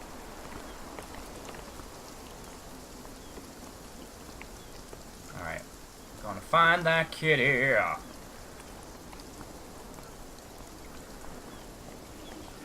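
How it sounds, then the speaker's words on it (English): Steady rain in the video game Beyond Eyes, a soft, even patter running the whole time with a brief spoken phrase in the middle. "Is that because of the rain sound?"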